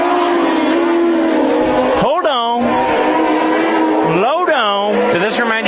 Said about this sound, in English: Green flag is in the air. We're racing.